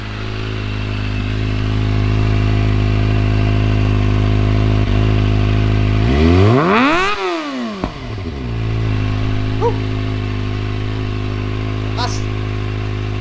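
A Kawasaki ZX25R fitted with an Akrapovic exhaust and dB killer idles loudly up close, then revs hard in one rising surge before settling back to a steady, rumbling idle.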